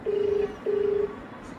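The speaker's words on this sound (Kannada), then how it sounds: "ನಮ್ಮಮ್ಮ ಇವಾಗ ನಮ್ಮ ಅಪ್ಪಂಗೆ ಕಾಲ್ ಮಾಡಿಬಿಟ್ಟು" A phone being dialed gives two clear, steady electronic tones, each about half a second long with a short gap between them, over faint background noise.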